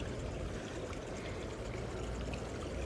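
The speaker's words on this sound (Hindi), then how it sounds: "पानी इतनी स्पीड से भाई ये इसलिए चल रहा है क्योंकि 5 दिन से बारिश हो रही है।" Rain-swollen water rushes fast through a field channel in Japan, making a loud, close, continuous roar and churn that stays constant with no pauses or voices.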